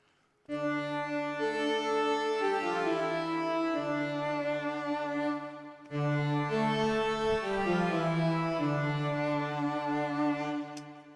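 A Reason Grain synth patch with breath control and lushness added plays two long, rich, breathy swelling phrases with a short gap between them, warm and layered and fairly quiet, with no voices.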